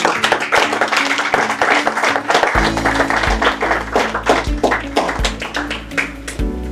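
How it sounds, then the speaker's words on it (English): Audience applause greets a speaker walking onto the stage at a business seminar on market growth and strategy. Scattered, uneven clapping runs throughout, and low, booming walk-on music joins partway through and continues under the claps. "let's give him a big round of applause as he comes to stage."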